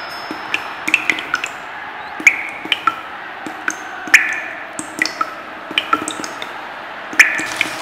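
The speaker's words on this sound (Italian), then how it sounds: "L'acqua che gocciola mi distrae." Water drips steadily into a container while an aquarium's water is being changed, each drop a small, clear, close plink at irregular intervals of roughly half a second to a second over a quiet hiss.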